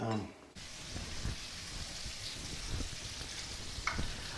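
Red peppers frying in a pan, giving a steady, quiet hiss and crackle of sizzling oil that continues throughout, with a couple of faint clinks.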